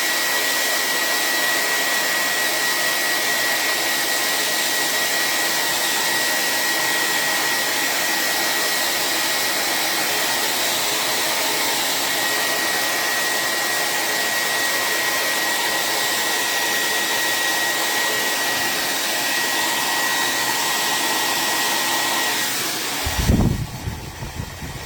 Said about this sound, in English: Now I'm going to turn this on and blow dry this really quick.